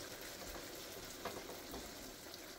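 Chicken feet simmering in broth with garlic powder being stirred in a pan, a soft continuous sizzle and bubbling with faint scraping of the spoon.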